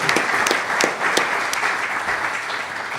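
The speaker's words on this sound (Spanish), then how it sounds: "Un aplauso, por favor, para Arturo Cuellar González." Audience at a molecular genealogy conference applauding a speaker's introduction: sustained clapping from a seated room, close and even, with a few sharper individual claps standing out early on.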